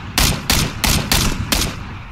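Bursts of gunfire in the video game PlayerUnknown's Battlegrounds: five loud, sharp volleys spaced roughly a quarter second apart over a steady background hum, with no voices.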